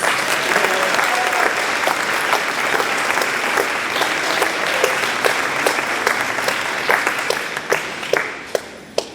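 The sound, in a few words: audience applause for a group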